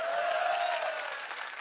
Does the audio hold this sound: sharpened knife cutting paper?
no